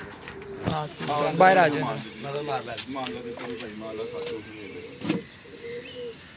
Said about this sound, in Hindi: ये गोल्डन कबूतर है। ये गोल्डन बादशाह वाला गोल्डन कबूतर।